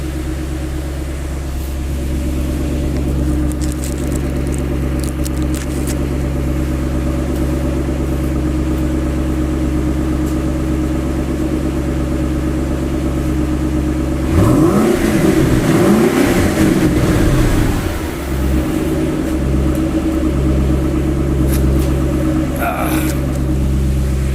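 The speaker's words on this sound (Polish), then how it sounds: "Może jeszcze raz dodam króciutko gazu." A car engine idles steadily, then revs up sharply for a couple of seconds before settling back to a rumbling idle, close by.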